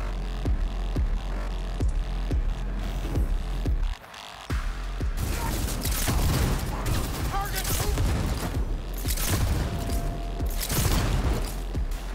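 Sustained gunfire from the video game Cyberpunk 2077: rapid sharp shots and bursts with booms and mechanical clatter, briefly pausing before growing denser and more chaotic, with voices shouting amid the firefight.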